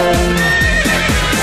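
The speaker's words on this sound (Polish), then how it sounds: "koń konia goni po zielonej łące" A horse whinny sound effect is set into a Silesian pop song about a horse chasing a horse across a green meadow. Loud, repeated neighs with falling pitch sweep over dense, steady music.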